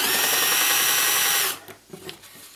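A power drill countersinking a hole in aluminium with a parf reamer setup, a loud steady whine for about a second and a half before cutting off, followed by faint scraping and handling noises.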